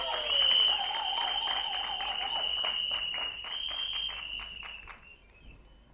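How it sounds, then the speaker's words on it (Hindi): Audience applause at a film trailer launch event for the movie Crazxy, a dense wash of clapping from a crowd with a tonal hum beneath, fading near the end. "सोहम सर के लिए एक बार जोरदार तालियां हो जाए।"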